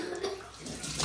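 Water pours from a kitchen tap in a brief, close, splashing gush, running steadily for about a second.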